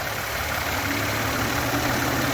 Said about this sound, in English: Got the AC running. The compressor. Go ahead. It's spinning up.